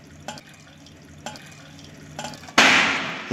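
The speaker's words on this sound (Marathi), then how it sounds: "आणि आता थोडंसं यात पाणी घालून आपण हे सुद्धा छानपैकी त्यामध्ये अशा रीतीने घालणार आहोत" Sweet water for a diet panipuri mixture drips with a few soft drops, then pours steadily in a close, splashing stream into the bowl.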